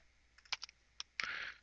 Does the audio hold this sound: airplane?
no